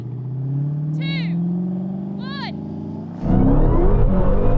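V8 engines idle and rev low, then a loud roar bursts in as cars launch hard and accelerate in a quarter-mile drag race, preceded by two brief whistle-like tones.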